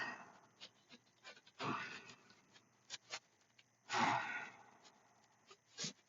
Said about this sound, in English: Focus on your breath. Get some nice big inhales and exhales.